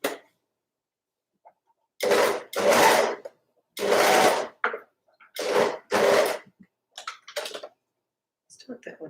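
Overlocker serger stitching a sweater seam with gathered fabric, running in several short, loud whirring bursts separated by pauses, close by, with fainter brief runs near the end.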